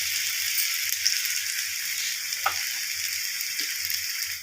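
Rava kara paniyaram frying in a pan, a steady close sizzling hiss of hot oil running throughout with a few light clinks and a soft rhythmic low rattle underneath.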